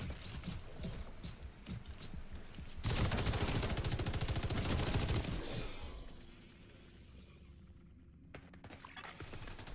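Rapid bursts of video game gunfire ring out close and loud, some stretches dense and rattling like automatic fire, then thinning to scattered shots alongside mechanical clatter.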